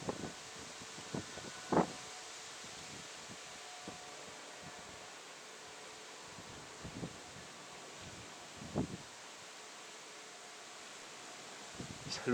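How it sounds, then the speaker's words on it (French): Gusty wind during a distant electrical thunderstorm near Grenoble in summer, a steady low rushing hiss against the microphone punctuated by several sharp buffeting bursts and rustles. "C'est incroyable ce vent bordélique qu'on a."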